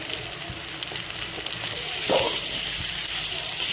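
Sabudana (tapioca pearls) dropped into hot oil in a pan, giving a steady, close sizzle and frying hiss that swells slightly partway through, with no talking.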